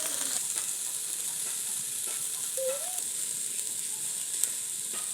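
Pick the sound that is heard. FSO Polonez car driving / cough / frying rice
frying rice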